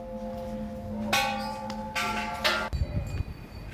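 Bells ring at a Buddhist temple in Bangkok, with sustained tones and several brighter strikes ringing out close by, followed by rustling handling noise.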